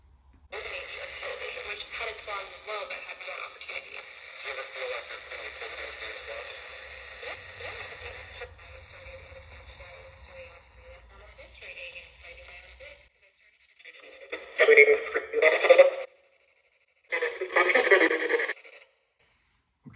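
A radio sweeps through talk-radio frequencies, giving continuous buzzing static and tones at first, then choppy bursts of broadcast voices and noise that fade in and out.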